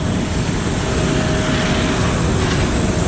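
Inside an airplane cabin, the engines drone in a loud, steady, unbroken roar with a faint constant hum running through it, and no one speaks.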